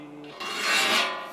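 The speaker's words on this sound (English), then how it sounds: "As you're filing, make sure to count each stroke" A file rasps across the teeth of a ripping saw in one long scraping stroke, close and bright, swelling in the middle before easing off.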